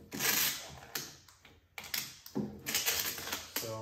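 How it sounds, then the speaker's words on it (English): Adhesive tape pulled and pressed onto a cardboard filament spool for a Bambu Lab X1 Carbon 3D printer, a quiet series of crackling rips and taps in short irregular bursts. "I'm trying to tape it as close to the edges as I can"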